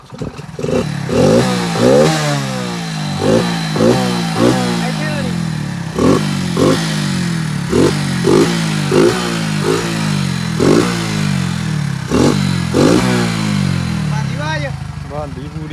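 A Hero Splendor motorcycle with its air filter removed revs repeatedly, rising and falling in a steady rhythm of throttle blips over a clattering idle, close by, while someone talks intermittently.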